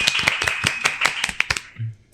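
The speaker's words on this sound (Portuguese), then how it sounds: "recebam com muitas palmas doutora Renata Ferreira e doutor Paulo Liberalesso" A small audience on a podcast set clapping to welcome two doctors: a quick run of about a dozen distinct, close hand claps over a second and a half, then stopping.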